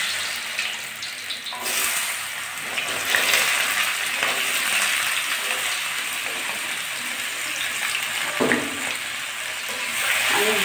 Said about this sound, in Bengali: ফার্স্টে আমি এই যে আলুগুলো কেটে ধুয়ে রাখা আলুগুলো আমি আগে ভেজে তুলে নেবো, লাল লাল করে ভাজবো